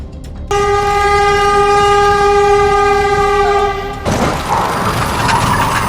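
A high-speed train sounds a long, loud multi-tone horn blast at a level crossing in Enfield, then the horn cuts off and the train roars and rattles past up close.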